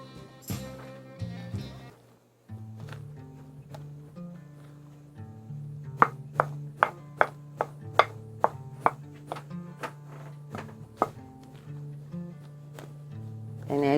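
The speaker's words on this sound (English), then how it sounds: "we're just going to mix that with a spoon" A spoon mixing tacky bread dough in a bowl makes a regular series of close, sharp knocks and sticky thuds, about two per second, over a low steady hum, with a brief voice at the very start.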